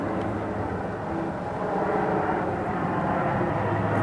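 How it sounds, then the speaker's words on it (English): A turboprop airplane engine drones steadily at a distance, a continuous low hum with a faint tonal whine that holds even throughout, with no voices. "It's a turboprop."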